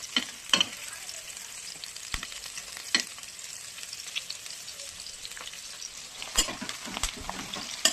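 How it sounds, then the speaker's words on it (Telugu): Onions sizzle and fry in a pan for a chicken curry, browning under a steady crackle. Occasional sharp clacks of a spatula stirring against the pan come close and clear, with no talk over them. "మన ఉల్లిపాయ బ్రౌన్ కలర్లోకి ట్రాన్స్ఫర్ అవుతుంది, ఇంకొంచెం ఫ్రై అవ్వాలి."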